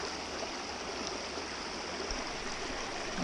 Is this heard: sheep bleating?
no